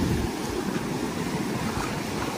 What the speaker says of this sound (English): Very rough sea or ocean.